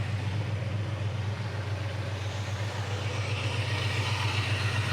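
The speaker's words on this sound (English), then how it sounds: "really smooth running V8, 4-barrel" A 1972 Plymouth 'Cuda with a smooth-running four-barrel V8 idles steadily nearby, a low even rumble that holds constant throughout with no voices.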